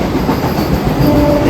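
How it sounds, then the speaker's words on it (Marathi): A fast train pulls into Diva Junction station, loud and close, a dense rumbling roar with rhythmic clatter of wheels over rail joints throughout. "ट्रेन आली आहे, चला ट्रेन पकडूया."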